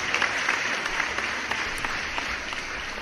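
Applause sound effect played on a late-night live stream: steady dense clapping, fairly soft and uniform, continuing without pause and without voices.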